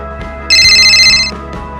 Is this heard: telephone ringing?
yes